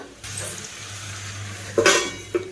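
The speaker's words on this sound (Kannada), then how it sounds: "ಒಂದು ಎರಡು ನಿಮಿಷ ಪ್ಲೇಟ್ ಮುಚ್ಚಿ ಬೇಯಿಸ್ಕೊತೀನಿ" A plate being set over a frying pan of ivy gourd fry cooking on low heat: a steady gentle sizzle, then a short metallic clatter and a second small clink as the plate settles.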